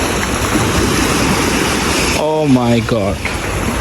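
Rushing water roars steadily and loudly at a waterside spot in Karachi, a dense continuous wash, and near the end a voice briefly exclaims over it.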